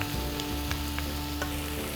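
Mushrooms fry in a pan with a steady, close sizzle and light crackle, broken by a few soft stirring clicks, with no one talking.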